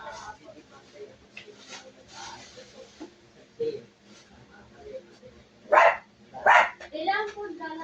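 Dogs bark in short bursts, a couple of louder yaps late on, amid kitchen chatter from people talking nearby.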